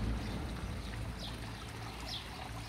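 Water trickles in a small garden stream beside a fish pond among succulents, a steady close burble and splash with a low rumble at the start and no voices.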